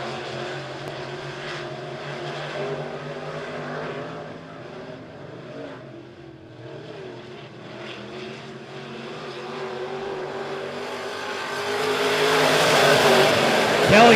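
Race cars lap Monett Motor Speedway in a dirt-track heat race, a pack of engines droning and revving at a distance, then swelling louder as the field roars closer near the end.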